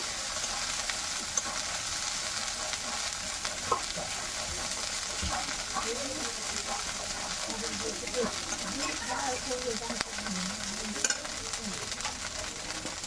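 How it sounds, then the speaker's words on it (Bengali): Spices frying in a pan with turmeric and ginger-cumin paste while cooking red amaranth greens, a soft steady sizzle with occasional stirring scrapes, faint and continuous. "একটু ভালো করে মশলাটা ভাজা ভাজা করে নেব।"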